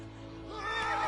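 A horse in The Witcher 3 whinnies loudly and close, a single drawn-out neigh rising and wavering over a steady low game hum.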